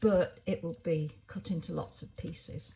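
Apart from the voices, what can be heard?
None of the usual background noises is heard.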